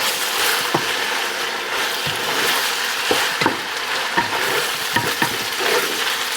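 Burger meat frying in a pan with black pepper being mixed, a loud continuous sizzle punctuated by repeated scraping and clicking of the spatula against the pan.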